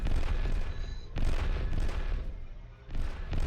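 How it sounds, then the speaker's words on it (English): A Titan war machine fires heavy weapons in Adeptus Titanicus: Dominus, with loud booming bursts of gunfire and explosions sounding in repeated waves over rumbling battlefield noise. "He's backing up and shooting at me."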